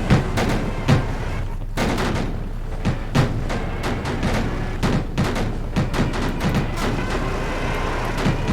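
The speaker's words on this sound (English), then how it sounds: "they're actually firing AA guns at the moment as well, which is that gunfire sound there." Anti-aircraft gunfire in the naval war game Victory At Sea Pacific, a continuous barrage of rapid gunshots and thumps with sharper bursts recurring about once a second, loud and close.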